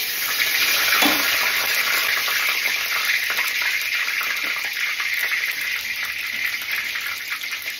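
A bay leaf dropped into hot oil gives a steady, dense hiss of sizzling that holds evenly throughout, fairly loud and close, with no voices.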